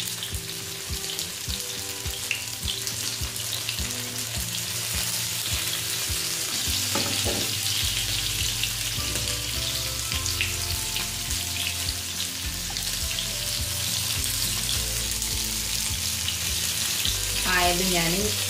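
Paneer tikka sizzling and frying on a hot tawa, a steady close crackle with occasional stirring and scraping, no talk.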